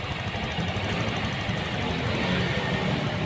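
A Honda Vario 150 scooter engine idles roughly after a recent rebuild, giving a steady, close, uneven mechanical chug with a knocking vibration and no talking.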